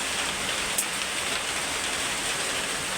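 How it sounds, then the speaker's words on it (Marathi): Heavy rain pouring down in a dense, steady hiss close by, unbroken from start to finish with no voices and only one small brief click. "खूप डेंजर पाऊस पडतो."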